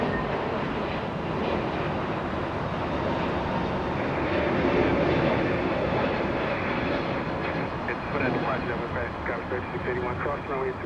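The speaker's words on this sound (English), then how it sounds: "JetBlue heading to JFK. JetBlue 1524, A321neo" JetBlue Airbus A321neo lifting off at Los Angeles airport, a loud, continuous jet roar that swells in the middle and holds steady, with a commentator talking over it.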